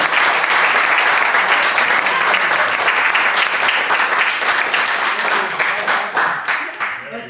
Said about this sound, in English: That's some good clapping.